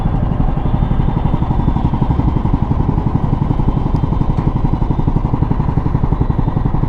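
A liquid-cooled Royal Enfield Himalayan 452 motorcycle engine runs steadily and loud throughout, a dense low rumble with no pauses or revving changes.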